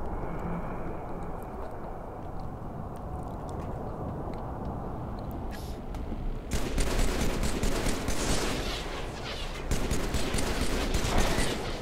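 Gunfire from the video game Halo 3 rattles in dense bursts that grow louder and heavier about halfway through and carry on to the end over a steady rumbling background.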